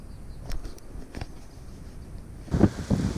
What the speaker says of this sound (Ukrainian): Попер вітер, зараз буде дощ.